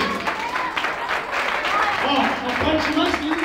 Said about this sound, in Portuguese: Vamos dar uma salva de palmas para Jesus, querido.